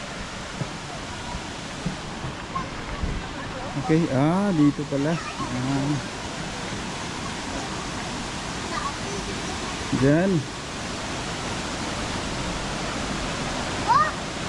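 Rushing spring water pours steadily at a cold spring resort, a constant broadband roar filling the whole stretch, with someone speaking briefly over it near the start and again toward the middle.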